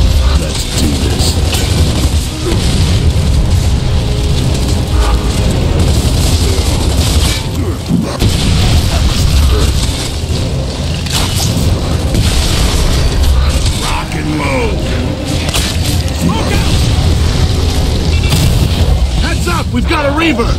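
Grenade blasts and heavy combat in the video game Gears of War 3, with loud booming explosions and rumbling battle noise filling the whole stretch, while voices call out over the din.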